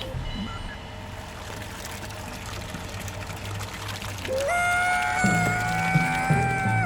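Cartoon concrete mixer truck named Celia pouring concrete, a continuous gushing pour with mechanical hum and a rising tonal whine joining partway through, loud and close.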